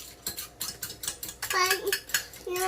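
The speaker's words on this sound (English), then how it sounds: "when my eggs are all mixed up, I'm gonna put it in the pan" Scrambled eggs cooking in a hot pan with melted butter, with a utensil clinking and scraping against the pan in quick, irregular taps and a brief voice in the background.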